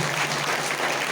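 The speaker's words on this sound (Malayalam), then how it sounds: "ഒന്ന് കൈയടിച്ച് ഈശോയ്ക്ക് നന്ദി പറഞ്ഞ്" A church congregation on a retreat day claps together in a brief, dense burst of applause that fills the hall.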